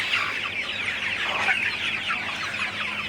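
Sonali and broiler chickens clucking together inside a poultry house on a hot day, a steady chorus of overlapping clucks and chatter close by, continuous and moderately loud with no talk.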